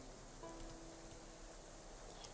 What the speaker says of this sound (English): her birthday is going to be spent in the rain